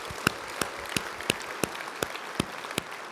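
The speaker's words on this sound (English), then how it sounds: "Let's give all of them another round of applause" Scattered hand claps from a conference audience at a corporate real estate summit general session in Las Vegas, applauding award winners; a thin, sparse round of separate claps in a large room rather than a full ovation.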